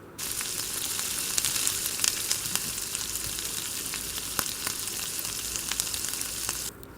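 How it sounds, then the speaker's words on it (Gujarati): Macaroni pasta sizzles in a hot pan as ketchup is stirred through it, a continuous crackling fry with scattered scraping clicks from the stirring, close and steady. "ત્યારબાદ કેચઅપ એડ કરીને મિક્સ કરી લેશું"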